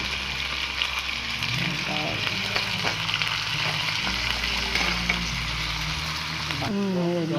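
Chicken sizzles in a pan with garlic, onion and ginger for tinola, a steady close frying hiss with stirring scrapes and clinks and a faint hum beneath.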